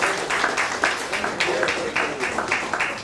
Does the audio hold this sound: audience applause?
yes